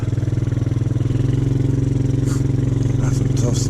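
Loud, steady engine drone of a vehicle that has lost its exhaust, running continuously with a low throbbing rumble near sand dunes, with faint voices and brief higher clatter toward the end.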